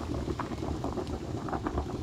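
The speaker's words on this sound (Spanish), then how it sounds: "Ahora está hirviendo ya," A pot of quinoa greens stew (picante de yuyo) bubbles at a steady rolling boil, a dense continuous gurgle and hiss heard up close with no talking.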